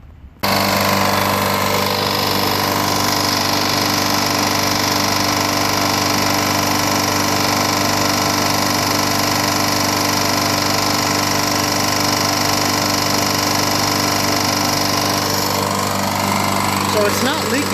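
A lawn mower engine running after a homemade gasket repair with red RTV silicone, a loud, constant, rough mechanical drone that stays steady and close for the whole stretch.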